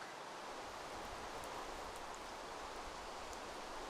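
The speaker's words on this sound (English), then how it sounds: "It's a little harder to light it in the rain, but it does work." Rain in the Terrafirmacraft video game falls as a steady, even hiss of soft broadband patter that continues unbroken, fairly quiet and alone without talk.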